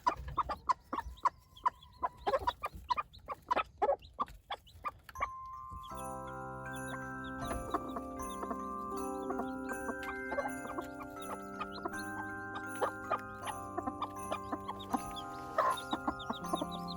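A hen and her young chicks in a chicken coop give a run of close, sharp clucks and peeps. Steadier overlapping chirping and faint jingling follow, with no talk.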